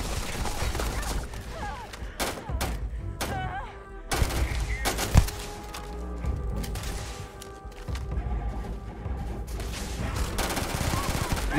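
Gunfire in the Starfield video game, a dense run of sharp shots and bursts with a booming blast midway, layered over game music and ambience with some talk.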